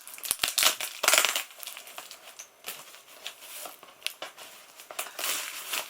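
Crinkly plastic cling film and cardboard packaging around a Blu-ray parcel being torn and worked open by hand, with close irregular crackles, rustles and sharp tearing bursts throughout.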